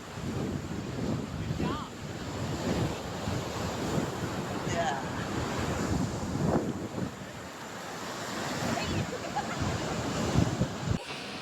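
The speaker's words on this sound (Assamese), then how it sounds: "ৱাও, ঢৌ শব্দ শুন" Ocean surf at Chennai's Marina Beach, a steady wash of breaking waves mixed with strong wind buffeting the microphone, with faint voices drifting in the background.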